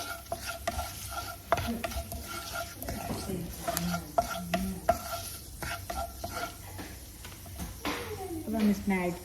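Spices roasting over a low flame for kala chana chaat, stirred steadily with a scraping spoon that taps the pan now and then, while a soft sizzle runs underneath and a voice speaks over the cooking.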